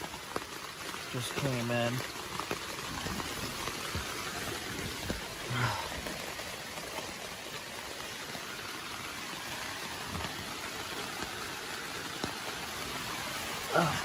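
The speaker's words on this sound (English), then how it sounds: "Some crazy rain" Heavy rain falls steadily on a mountain campsite, a dense, hissing patter that persists throughout, with a person speaking briefly near the start and a few soft knocks and rustles close by.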